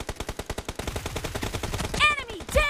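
Rapid submachine gun fire in the PUBG Mobile video game, a fast even burst of shots that softens midway, followed by a voice calling out over the last moments.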